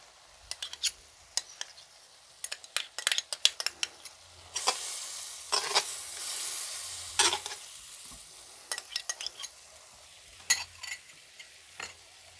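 Chicken intestines in BBQ sauce sizzling in a pan while being stirred, with repeated scraping and clinking strokes of a utensil over a soft hiss, close and moderately quiet, with no talk.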